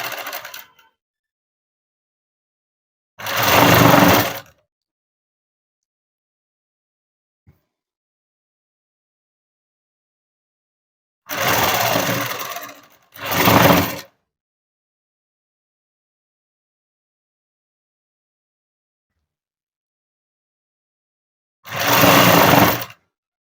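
Sewing machine stitching a garment, running in four short bursts of about a second each, two close together, separated by long silences, near and fairly loud.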